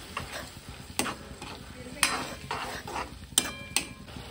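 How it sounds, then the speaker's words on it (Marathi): Tomato puree being stirred into oil-fried pav bhaji base in a pan, a spoon knocking and scraping against the metal at irregular intervals over a soft background. "सो इथं मी टमॅटोची प्युरी घालत आहे, छान मिक्स करून घेते."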